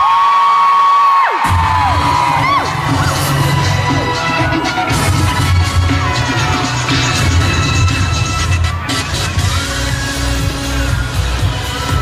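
A crowd cheers, whoops and shouts loudly, with children's voices among it, as people step out of a lift at Redhill Belfry. The noise bursts in suddenly after a quiet moment and stays dense and excited throughout.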